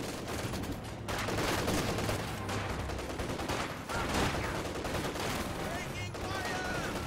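Dense battlefield gunfire from Company of Heroes 2, with rapid rifle and machine-gun bursts overlapping continuously and loudly, alongside game voice callouts and combat noise.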